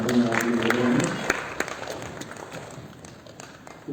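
An audience at an award ceremony welcomes the program's chairperson with applause, a burst of clapping that fades under a voice speaking over a microphone.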